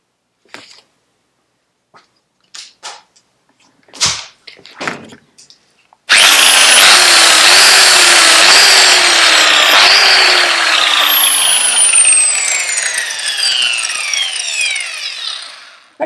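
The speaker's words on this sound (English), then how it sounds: "I now have a working angle grinder again" Angle grinder just repaired at its power lead, switched on in a garage after a few handling clicks and knocks: a loud, close, sustained high whine that spins up sharply, runs for about ten seconds, then winds down.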